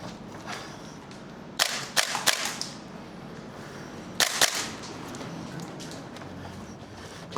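Gunsmodify SCAR MWS airsoft rifle firing off Gen 3 P-Mags, sharp mechanical shots arriving in two short bursts of quick pops against a quiet outdoor background.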